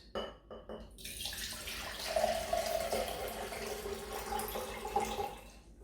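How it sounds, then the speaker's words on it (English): Water pours in a steady stream from a clear beaker into a cupped hand, a splashy trickle with a few light knocks at the start. "I'm going to take a clear beaker and pour into my hand."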